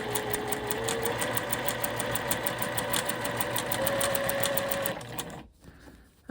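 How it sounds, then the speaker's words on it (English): A sewing machine stitching curved fabric pieces runs at a fast, even mechanical rhythm for about five seconds, close and loud, then stops abruptly, leaving faint handling noise. "I'm just going to sew a little bit further to meet up to that needle"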